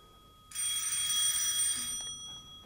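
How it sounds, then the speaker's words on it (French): An old telephone bell rings in one continuous metallic trill of about a second and a half, loud and close, then stops in a quiet room. "C'est encore cette vacherie de téléphone qui me réveille le lendemain matin."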